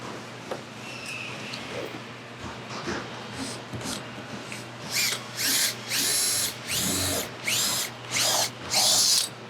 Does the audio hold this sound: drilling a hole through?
yes